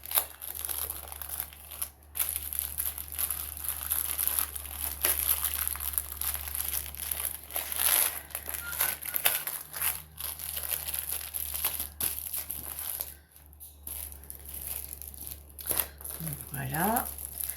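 Paper wrapping crinkles and rustles steadily as it is folded back around a painted canvas, close and fairly busy, with a constant low hum and high hiss underneath.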